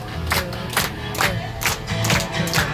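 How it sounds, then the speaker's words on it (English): A worship crowd aboard a boat on the Sea of Galilee shouts together in short, loud, rhythmic bursts, several group cries repeating over a few seconds amid open-air noise. "Everybody shout hey."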